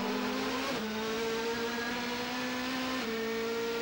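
A DTM touring car, orange, races past on the Norisring street circuit in 2005, its engine a loud sustained high drone with gear shifts and pitch changes, continuous and close throughout.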